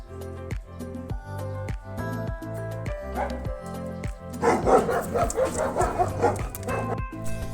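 A Labrador dog makes yipping, bow-wow sounds close by, joined partway through by a busier, louder burst of dog noise, with no speech.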